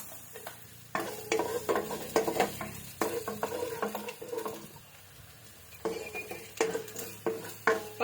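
Chopped garlic sizzles in a pan over ginger as chicken curry is started, with a steady frying hiss broken by repeated scraping stirs and metallic clanks of a spoon against the pan, close and fairly quiet, no talking.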